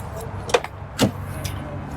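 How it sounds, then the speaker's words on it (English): A 2006 Ford Crown Victoria LX door being opened: two sharp mechanical clunks of the latch and door close by, set apart by a short pause over a quiet low hum. "Open the door here."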